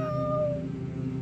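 A cat meows in a single drawn-out call, close and fairly loud, its tone falling away over about a second with no talking.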